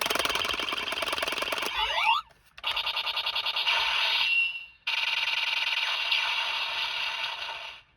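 Electronic toy sounds from a Kamen Rider Ex-Aid DX Gashacon Breaker, a loud burst of tonal beeping chimes triggered by rapid tapping, with one short gap before a second sustained run of bright, repeating electronic tones.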